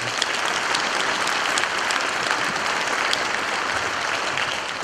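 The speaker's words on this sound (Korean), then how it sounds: "우리 박한곤 이 회장님께 수고하셨다고 박수 한번 보내주시기 바랍니다" An assembly audience at an association general meeting applauds the outgoing president, a dense, sustained round of many hands clapping at a steady loud level throughout.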